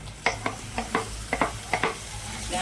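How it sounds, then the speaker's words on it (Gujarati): Carrots tossed into a hot pan with fried garlic for Indian-style pasta, giving repeated sharp stirring scrapes and short sizzling bursts in a steady rhythm, close and moderately loud. "હવે આપણે એમાં ગાજર નાખી દઈએ ગાજરને શેકી લેવાના છે"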